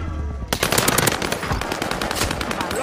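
Rapid automatic gunfire from a Call of Duty: Warzone match on Fortune's Keep, erupting after a brief quiet half-second into sustained loud bursts of close shots that continue to the end.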